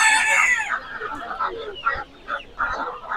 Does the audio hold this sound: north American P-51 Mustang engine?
no